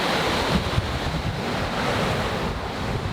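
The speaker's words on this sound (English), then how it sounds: "The good news is there's wind and we're moving." Wind rushes over a sailboat moving at sea, a steady broadband roar of gusts buffeting the microphone, mixed with the wash of water along the hull, loud and close with no voices.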